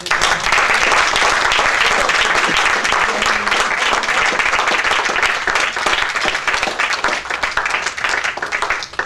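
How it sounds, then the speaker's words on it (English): Loud, continuous applause at a presentation on a proposed decongestion model for Panjim City, many hands clapping densely and evenly, with the level easing slightly near the end. "before we give them a round of applause"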